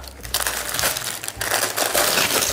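Baking paper crinkles and tears away from a home-baked Hungarian loaf fresh from a pot, in close, fairly loud bursts of crumpling with brief pauses between.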